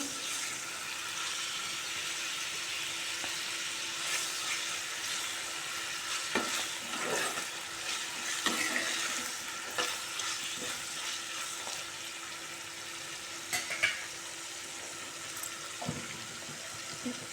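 Tomato lightly frying in a pan for coconut chutney, a soft continuous sizzle with intermittent clicks and scrapes of stirring, fairly quiet and close.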